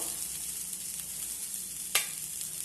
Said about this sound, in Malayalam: ബാക്കി വന്ന നെയ്ക്കകത്ത് ഈ തേങ്ങയൊന്ന് ഫ്രൈ ആക്കി എടുക്കണം